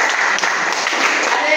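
An audience at a religious preaching and outreach session claps briefly, a short, dense burst of applause with voices blended underneath.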